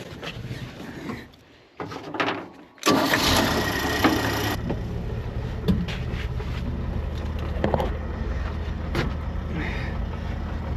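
An old parts truck shifted into reverse, a clunking mechanical engagement followed by a steady engine idle and rumble, with scattered knocks and rattles close by.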